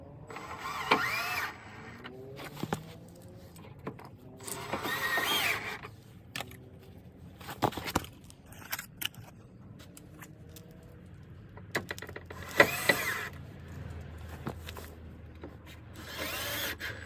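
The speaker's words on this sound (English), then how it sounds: "so I know exactly where to drill into the stock side skirt." A drill boring holes into the stock side skirt of an 804hp EG Honda Civic, several short bursts a few seconds apart with quiet handling noise and clicks between them.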